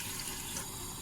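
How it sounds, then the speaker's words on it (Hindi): Water poured from a tap into a pressure cooker on the stove, a steady, close gushing stream with no break and no talk. "कुकर के अंदर पानी डालूँगी"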